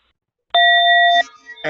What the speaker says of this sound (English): The small bell is this one.